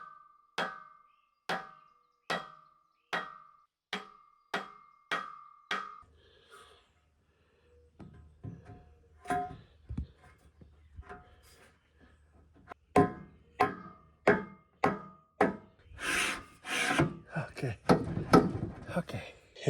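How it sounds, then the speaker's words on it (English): A rubber mallet taps a part of a Woodland Mills HM136MAX sawmill cutting head into place, first in a steady run of about ten evenly spaced knocks, then quieter fumbling, then another burst of firmer blows, with breathing and handling noises between. "I'll try a rubber mallet."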